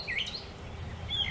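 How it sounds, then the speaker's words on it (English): Birds chirp outdoors in a quiet backyard, a few high, short calls near the start and again near the end over a soft steady background hum, with no talking. "listen to the birds."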